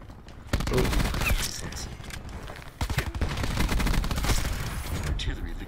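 Rapid gunfire in a shooting video game against bots, dense continuous bursts of shots that fill the whole stretch, loud and close, with a faint voice underneath.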